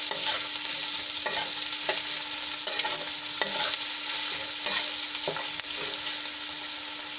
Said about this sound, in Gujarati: ડુંગળી અને બટેટા આપણા થોડાક સોફ્ટ થાય ત્યાં સુધી એને સાંતળી લેવાના છે.